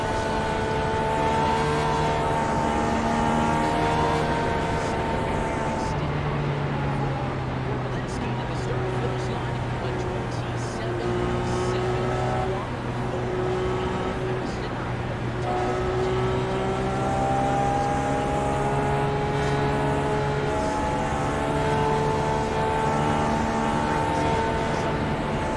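Indy race cars in the iRacing video game idle and roll slowly behind the pace car, a steady engine drone with shifting harmonic tones running continuously throughout.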